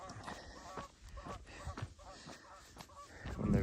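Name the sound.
Canada geese honking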